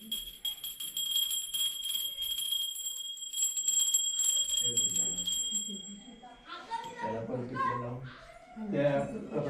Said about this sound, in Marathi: घंटा वाजवून तिकडे ठेव देवाला वाजवायचं